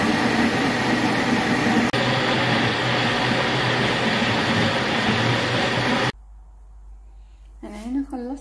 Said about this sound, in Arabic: خلصت عصير الفراولة، ضربته في الخلاط